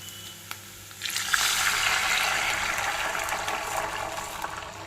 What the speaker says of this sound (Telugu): ఇప్పుడు వాటర్ పోసేసుకోవచ్చు.